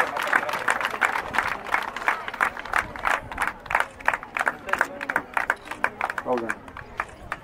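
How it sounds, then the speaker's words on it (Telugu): An audience at a National Sports Day event for Major Dhyan Chand's birthday claps in sharp, uneven bursts, with a voice talking over the applause. "క్లాప్స్"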